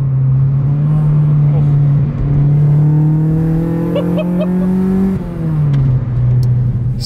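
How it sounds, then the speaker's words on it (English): A Ford AU Falcon engine revs up and down loudly and up close, its pitch climbing in long pulls before dropping, with a few small crackling pops partway through. "A bit of a backfire. Oh, it pops and crackles."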